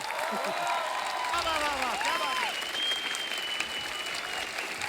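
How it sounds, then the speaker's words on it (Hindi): A TV studio audience applauds continuously for a dance group, dense clapping with scattered cheers and whistles rising and falling throughout. "आप सबकी जोरदार तालियों से स्वागत करना चाहेंगे"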